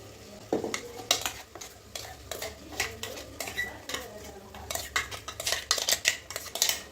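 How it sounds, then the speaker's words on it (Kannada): A spoon clatters against a pan as ground masala is added to fried vegetables for a brinjal gojju and stirred, giving irregular metallic scrapes and knocks over a light sizzle. "ಈಗ ಮಸಾಲೆ ರುಬ್ಕೊಂಡಿದ್ವಲ್ಲ ಅದು ಹಾಕೋಬೇಕು."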